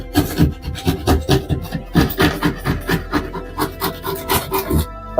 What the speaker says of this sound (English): your knife has to be up and down or you're actually cutting an angle into the drywall